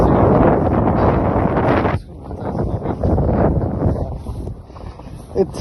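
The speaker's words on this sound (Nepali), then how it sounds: "हावा धेरै चल्यो" Strong winter blizzard wind roars and buffets loudly in a continuous broadband rush that drops briefly and then surges again, gusting and uneven throughout.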